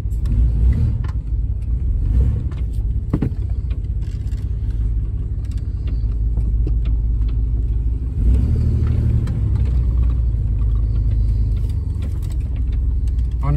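A car engine idles while warming up as a steady low rumble, then revs a little as it pulls away, heard close with no talking.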